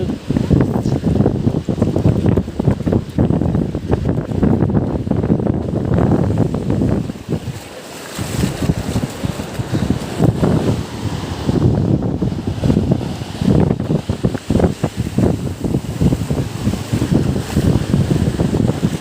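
Sea waves wash up a village beach in steady rolling surges, loud and close, mixed with heavy wind buffeting the microphone throughout, with a brief lull partway through.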